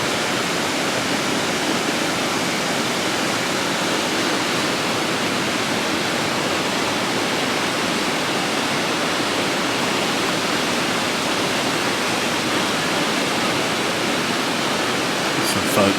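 Muddy river water swollen by rain pours over falls in a dense, unbroken roar, loud and close, continuing evenly throughout.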